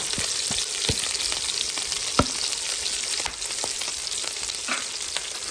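Onions fry in a pan with a steady, dense sizzle, while a utensil stirs them with sharp scraping clicks at irregular intervals. No one speaks.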